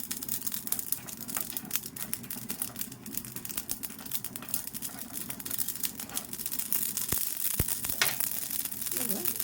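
Fish for Nellore-style fish curry frying in a pan, giving a soft steady sizzle and crackle at low level with a few sharp clicks and taps near the end.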